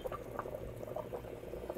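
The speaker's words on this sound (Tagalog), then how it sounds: "kumukulo na yung ating bulalo" Bulalo beef soup bubbles steadily in a pot, a faint, close, continuous simmer with small irregular pops and gurgles and no voices.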